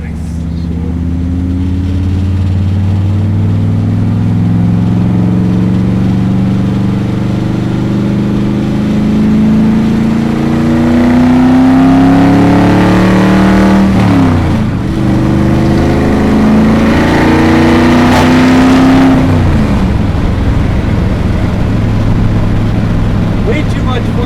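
A patina-finished Chevy Gasser hot rod engine revs loud and close through gear shifts, its pitch sweeping up and dropping back with each change, while people talk over it.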